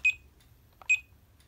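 A security system panel in fire alarm mode gives two short, sharp electronic beeps about a second apart in a quiet room.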